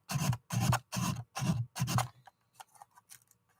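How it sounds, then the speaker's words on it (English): Sandpaper wrapped on a small steel block is rubbed along a cut edge in five quick, even strokes, followed by faint scattered taps and scrapes. "Just using a little piece of steel with sandpaper on it. Just taking off the cut edge."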